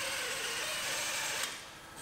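A drill bores out spot welds on an old car shell of soft, non-high-strength steel, giving a loud continuous whine that drops off as the bit breaks through.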